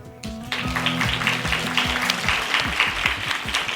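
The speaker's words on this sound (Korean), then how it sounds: "이 박수 소리 들으셨죠?" An audience claps throughout over a melodic music line at a literary radio recording featuring Anyang Arts High School, the applause starting abruptly and continuing as dense, even clapping.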